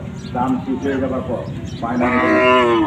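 A bull at the Chandaikona cattle market gives a loud, drawn-out moo close by, rising at the end, while people talk around it amid crowd noise.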